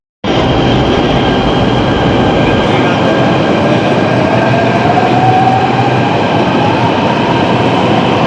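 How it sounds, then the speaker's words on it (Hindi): A metro train passes close by, a loud sustained roar with rail rumble and a faint rising whine, starting abruptly and holding steady to the end with no talk. "ये सोच रहे हैं ये क्रॉस कर जाए मेट्रो"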